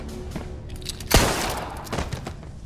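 A single sharp gunshot cracks out in a tense sci-fi action scene from an Alien movie, a loud burst that rings over a dense, rumbling film score and background mix.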